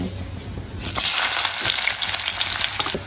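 Cumin seeds and a pinch of asafoetida dropped into hot oil, a loud close sizzle that swells after the first second into a steady crackling hiss and stays strong to the end, no talk over it.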